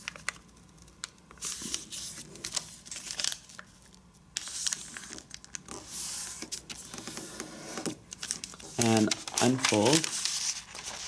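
Paper is folded in half, unfolded and creased while an origami dragon is made. It makes intermittent crinkles and rustles, with a brief squeaky burst near the end.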